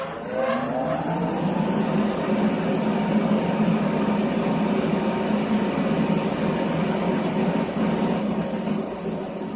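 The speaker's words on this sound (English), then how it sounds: "turn on the exhaust fan and" An exhaust fan runs in an automotive paint booth, a loud, steady broadband roar holding even from start to finish with no talk over it.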